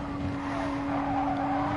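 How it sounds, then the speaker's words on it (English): Tyres on a race car squeal in a steady, sustained screech over the engine, heard continuously at moderate level during a 12-hour endurance race at Spa. "All you just do is hear more tyre squeal"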